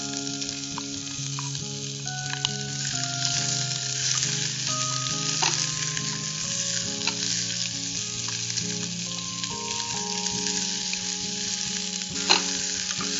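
Sliced large onion sautéing in a pan for a potato and green pea stew, a dense steady sizzle with soft stirring scrapes and a brief clink near the end, no talk.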